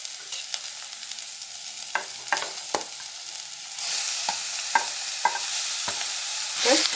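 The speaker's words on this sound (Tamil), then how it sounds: "இப்போ பீட்ரூட் சேர்த்துடலாம்" Beetroot is stirred and sautéed with onions and curry leaves in a pan for a South Indian stir-fry. A soft, steady sizzle sounds with repeated sharp scraping strokes from a spoon, and the frying grows louder partway through.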